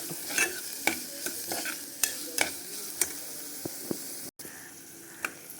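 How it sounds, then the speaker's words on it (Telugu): Ginger garlic paste frying with onion in a pan for a country mushroom curry: a soft, low sizzle broken by sharp, irregular clicks and scrapes of a spoon stirring, close and with no voices. "ఒక స్పూన్ అల్లం వెల్లుల్లి పేస్ట్ అయితే వేసాను పచ్చివాసన పోయేంత వరకు వేపుకొని"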